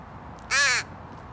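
A crow gives one sharp, loud caw close by, alone against faint outdoor background noise.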